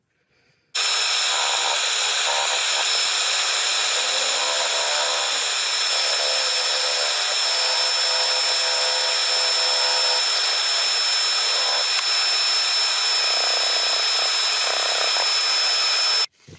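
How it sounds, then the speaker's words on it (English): Sanding over the surface of a turned birch end-grain vase with 180 grit paper, a steady continuous whirring hiss from the spinning lathe, loud and unbroken from start to finish. "Now just lightly with the 180 grit, I'm just going to sand over the surface"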